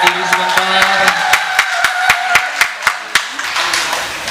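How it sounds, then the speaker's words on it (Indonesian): Audience clapping at a fifth birthday gathering in a restaurant, a steady run of sharp, fairly close claps in a loose rhythm, with voices murmuring underneath before the claps thin out. "Dan tepuk tangan kepada Selvita yang dari Malaysia."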